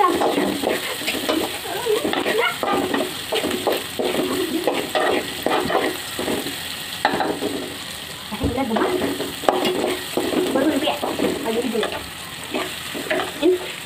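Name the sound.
stirring food in a pan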